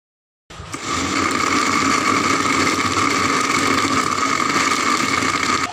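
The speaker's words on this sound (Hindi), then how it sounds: "अब इसमें हम बर्फ़ शामिल करेंगे और अब इसको थोड़ा सा ब्लेंड करेंगे।" A blender crushes ice into a mango and strawberry milkshake, a loud, steady motor whir that starts abruptly after a brief silence and runs unbroken to the end, with no talking.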